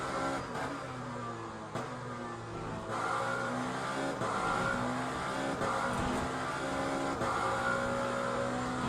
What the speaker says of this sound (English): Ooh, not the greatest sounding car either.